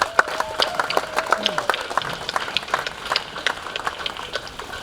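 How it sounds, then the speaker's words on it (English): Graduation ceremony audience claps in a light, scattered patter, soft and somewhat distant, with a faint voice briefly audible underneath. "Let's just give them one more round of applause."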